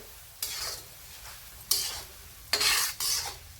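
Coriander and cumin seeds are stirred in hot oil with the gas turned off: four distinct scraping strokes of a spoon against the pan over a faint, quiet sizzle.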